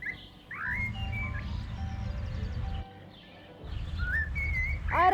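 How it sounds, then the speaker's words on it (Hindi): Birds sing and chirp in spring, with bright whistled, rising and falling notes over a soft background hum. "पंछी गाने लगे"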